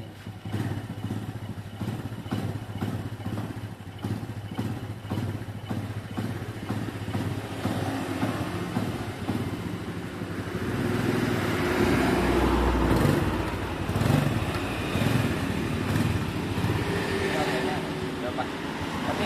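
Honda Win motorcycle engine running, with rough uneven idling, clattery mechanical knocks and thumps, revving up and getting louder midway, close by with voices talking over it.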